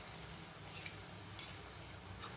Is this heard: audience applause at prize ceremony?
no